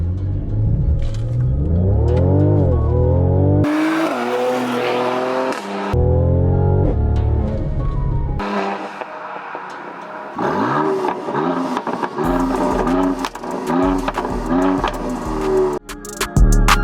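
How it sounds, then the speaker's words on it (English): A Mercedes C43 AMG on new tires, in Sport Plus mode with traction control off, accelerates hard through several rising engine pulls, each broken by abrupt gear shifts. It is loud and close, with no voices. "time to test out the performance with the new tires"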